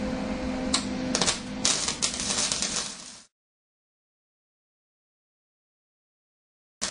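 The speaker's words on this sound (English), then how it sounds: "I'm going to square these up, which I just did, and tap them together" Metal pieces for a mobile kitchen fryer frame being squared up and tapped together, a run of sharp metallic clicks and knocks over a faint hum that cuts to silence, then one more brief tap.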